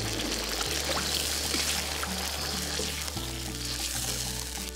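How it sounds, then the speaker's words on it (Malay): Water pours steadily into a pot of Penang nasi kandar-style fish head curry made with jenahak and green chillies, giving a continuous splashing rush with no talk over it. "Kemudian korang boleh tambah air, ikutlah cukup untuk kuah."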